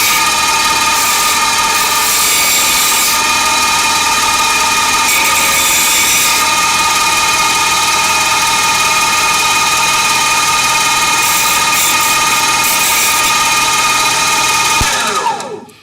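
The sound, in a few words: rotary tool with abrasive wheel cutting PLA plastic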